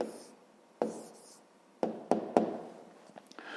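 Pen writing an answer on paper during a fifth-grade math exercise on an equilateral triangle's perimeter: soft scratchy strokes broken by a few sharp taps as the pen touches down, quiet and close.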